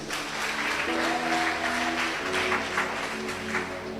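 A church congregation applauds steadily in a sustained burst of clapping, with a sung or held tone and murmured voices running underneath.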